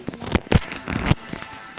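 Firework bazooka in Toilet Tower Defense firing a quick series of loud crackling bursts, several sharp pops in the first second and a half over a busy game-sound bed.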